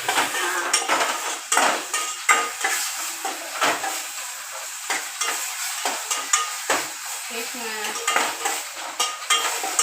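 Tomatoes sautéing in a pan with a utensil clinking and scraping in quick repeated stirs over a soft sizzle, close and fairly loud, with no talk.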